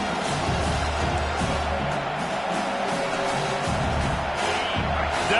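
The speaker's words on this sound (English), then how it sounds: "rising as the crowd gets behind this defense on third down" A stadium crowd in an NCAA football video game swells steadily on a defensive third down, a dense continuous roar with low rumble that stays loud throughout and carries no clear speech.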